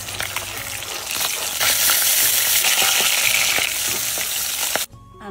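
A batch of fish sizzling in hot oil gives a continuous close crackle with sharp spits and pops, swelling louder midway and then cutting off abruptly near the end.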